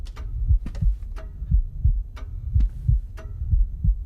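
Heavy, low heartbeat thumps in Paranormal Activity The Lost Soul, a VR horror game, pulsing steadily about twice a second over a dark hum, with no talk.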